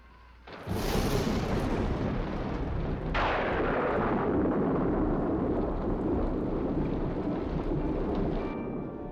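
A sudden loud thunder crack opens into a long, rolling rumble, followed by a second crash and steady heavy storm noise that slowly fades.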